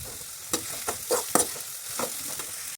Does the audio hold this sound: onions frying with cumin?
yes